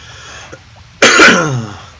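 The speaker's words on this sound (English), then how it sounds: "Cough, cough, cough." One harsh, loud cough erupts up close after a quiet stretch, followed by a raspy, fading exhale.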